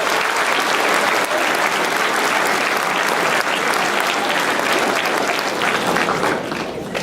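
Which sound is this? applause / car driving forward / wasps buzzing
applause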